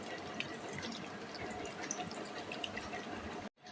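Water pours steadily into scooped-out wood apple (bael) pulp in a bowl, a continuous close splashing that stops abruptly near the end.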